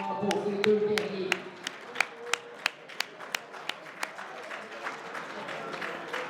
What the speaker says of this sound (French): Une bonne main d'applaudissements pour ces deux guerriers.